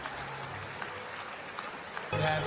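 Applause from the audience at an FIA awards gala, a soft, distant patter of clapping that swells louder near the end.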